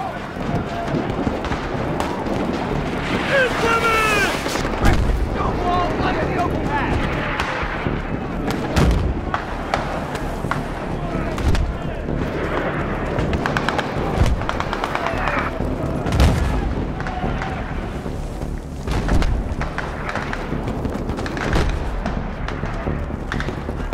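Mortar fire and battlefield din from the video game Battlefield 3, with heavy booms and dense gunfire running throughout under shouted voices.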